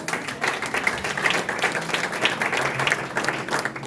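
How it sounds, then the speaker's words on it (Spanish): A church congregation breaks into applause, a dense burst of clapping from many hands that stays lively and fairly loud for a few seconds. "Demos un aplauso."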